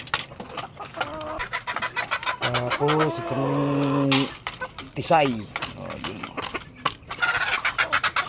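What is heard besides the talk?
chickens clucking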